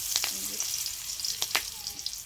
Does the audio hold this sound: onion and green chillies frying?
yes